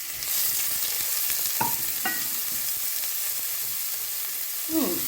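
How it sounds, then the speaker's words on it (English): Habanero pepper and ginger sautéing in hot oil in a pan, a steady close sizzle broken by a few scraping stirs and light utensil clinks. "after leaving it for about 2 minutes for it to saute"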